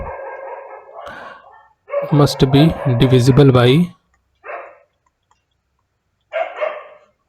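Dogs bark in the background in short bursts, before and after someone speaks briefly nearby.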